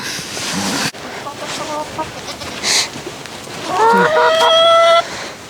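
Chickens in a chicken run on a winter farm cluck and call in short bursts, with a longer rising crow-like call near the end, fairly close over a noisy background.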